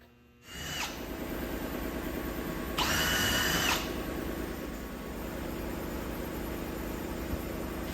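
A power drill with a 3/16 bit bores pilot holes while mounting a retractable extension cord reel, whining steadily throughout with a louder, higher-pitched burst of about a second partway through, close and alone without talk.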